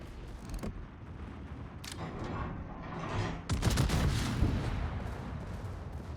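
Rapid secondary guns fire from a Tier X Schlieffen battleship in World of Warships, a dense run of sharp booming shots that swells into a loud continuous barrage.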